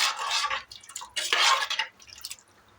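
Water coming to a boil in a single pot of tomato rice seasoned with chili powder and salt gives off close, hissing, bubbling bursts in two main surges, with no talking.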